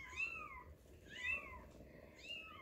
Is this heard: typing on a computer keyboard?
no